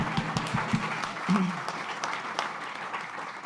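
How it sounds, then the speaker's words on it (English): An audience at a talk on trash and waste breaks into applause, a dense wash of clapping following a few separate sharp claps, with a short burst of voice partway through. "let the applause rip"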